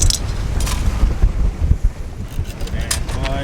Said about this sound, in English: That crazy wind, we're still catching them.